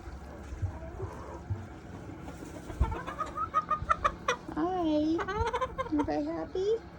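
Young backyard farm chickens cluck and make soft chirping calls at close range, several scattered notes, while a person talks gently nearby.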